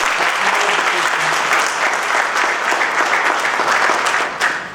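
A conference audience applauds in loud, sustained, dense clapping that continues evenly for several seconds before beginning to thin out at the end.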